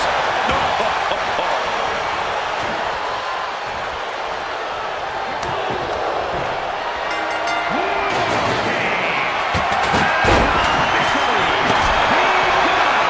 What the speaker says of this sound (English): Slam the door shut and brace for impact.